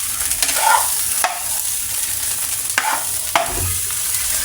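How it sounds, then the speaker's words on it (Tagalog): Garlic fried rice (sinangag) sizzles steadily in a pan, with a few scraping stirs of the spatula over a constant close frying hiss. "luto ng ating sinangag"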